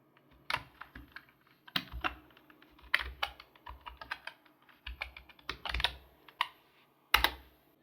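Someone types a Python command into a computer terminal, producing close, crisp keyboard clicks in quick irregular clusters with short pauses between, without any talking.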